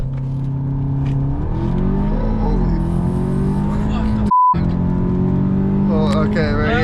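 Boosted Audi S3 built to about 550 hp accelerating hard under turbo boost, a loud steady engine drone rising in pitch through the gears from inside the car, with voices talking over it.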